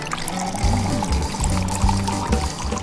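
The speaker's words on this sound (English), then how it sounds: "Some water." Water poured into flour while making homemade pasta dough, a steady continuous pour with gurgling pulses, close and fairly loud, with no talking.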